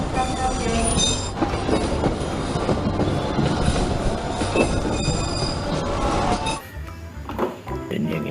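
A locomotive-hauled train rolls past up close, a loud continuous rumble with rail clatter and squealing wheels for most of the clip before it drops away abruptly near the end.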